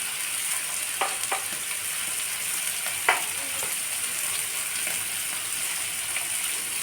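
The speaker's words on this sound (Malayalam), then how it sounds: "നല്ലതാണ് കേട്ടോ ഇങ്ങനെ മീൻ വറുത്താൽ" Oil sizzles steadily in a pan with a bright, hissing crackle as fish fries, broken by a few sharp pops and spatters.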